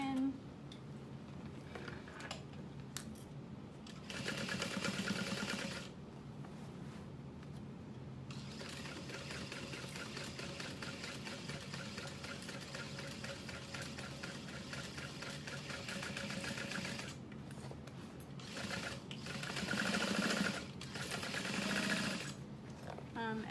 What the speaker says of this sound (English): just back stitching over the butterfly stitch